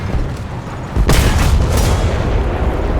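A tank cannon fires while the tank is moving in War Thunder, a single sharp boom followed by a rolling low rumble that lingers over constant engine noise.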